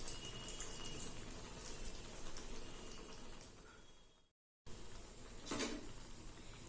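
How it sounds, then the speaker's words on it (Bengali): Malpua frying in a pan over a low gas flame, with a steady crackling sizzle throughout, a brief drop to silence, then a louder burst of spattering oil. "এইভাবে একটা একটা করে ভেজে তুলব।"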